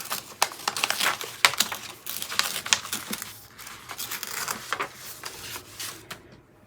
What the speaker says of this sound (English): So I'm gonna tear like about right here.